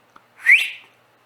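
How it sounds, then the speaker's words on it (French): A hunter gives a single sharp, rising whistle to stop a running hare, loud and close, preceded by a faint click in otherwise quiet surroundings. "Moi, j'aime ça siffler parce que tout"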